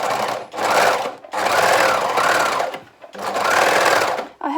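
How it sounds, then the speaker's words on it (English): A sewing machine stitches a centre front seam in three steady bursts, a fast mechanical whir with short pauses between them, close and loud. "I'm going to start off by just sewing down the centre front."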